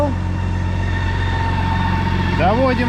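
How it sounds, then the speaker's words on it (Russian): A BMW K1600 motorcycle idles while warming up, a steady, loud, close engine drone with a constant tone. A short rising and falling tonal sound appears near the end. "Что ж, прогреваем мотоцикл."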